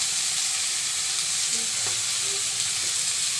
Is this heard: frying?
yes